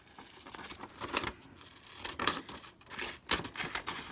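Scissors rough-cutting decoupage paper for a Dollar Tree craft LED candle, a close series of crisp snips and rustling crinkles in uneven bursts.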